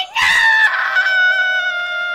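A girl screams loudly in a single sustained, high-pitched cry lasting about two seconds, close and alone.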